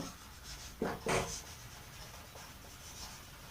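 Marker or chalk writing a number on a classroom board, two short scratchy strokes near the start followed by faint lighter scraping, with no talking over it.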